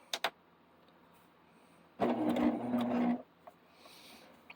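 A sewing machine runs a blanket stitch around an appliqué quilt block in one short motor burst of about a second, preceded by a couple of faint clicks and followed by quiet.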